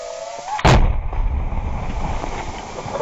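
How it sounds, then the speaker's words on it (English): A single loud, sharp blast from a drone strike on a building in the Ukraine war, hitting abruptly and leaving a rumbling, debris-filled tail that lingers for several seconds. "the drone quickly locked onto the target and launched an attack on the building."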